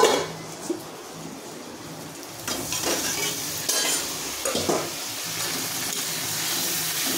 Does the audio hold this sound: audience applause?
no